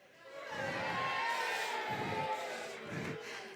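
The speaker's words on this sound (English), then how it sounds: "if you think Matt is the king, can I hear a cheer?" An audience in a church gathering cheers on cue, a rising burst of mixed adult and children's shouts and whoops that swells, peaks and fades over a few seconds, fairly loud and close.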